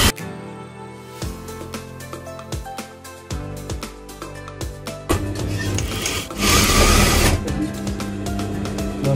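Industrial sewing machine stitching the side seam of a front-open abaya, running in repeated bursts with short pauses between runs, a steady mechanical whir that grows louder and denser toward the end.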